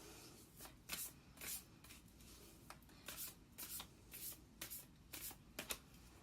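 Tarot cards from the Morgan Greer and Rider-Waite decks are shuffled by hand in close, quiet riffling bursts that come and go irregularly, with no talking.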